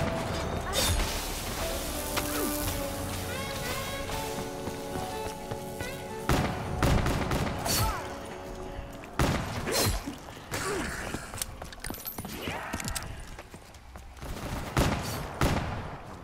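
Rapid bursts of gunfire in Call of Duty Black Ops III, sharp cracks and rattling automatic fire coming in clusters over clanking mechanisms and game effects, with no talk.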